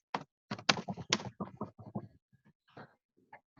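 Fingers type on a computer keyboard in quick bursts of sharp, close clicks, a fast cluster and then sparser, fainter taps with pauses between them.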